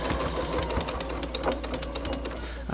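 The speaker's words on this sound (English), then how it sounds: "You will probably have to slow down because that is a lot to sew through" A sewing machine stitching through a thick lump of layered tablecloth fabric for a long wrap, its motor whirring in a steady, dense rhythmic hum up close throughout.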